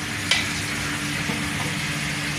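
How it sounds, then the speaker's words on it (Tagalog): Food sizzles steadily in a worn pot as it fries, a continuous close hiss with a brief louder crackle near the start and no talking. "Nagpiprito."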